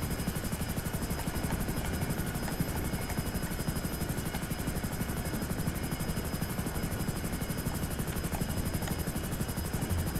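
A Hunter attack helicopter flies in GTA Online, its rapid rotor chop and engine whine running steadily and loudly for the whole stretch, with no voices over it.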